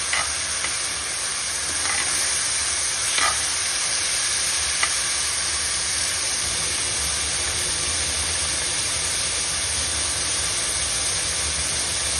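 Tamarind pulp with fried onions bubbling in a pan, a steady close simmering hiss with a few faint clicks early on, no talking.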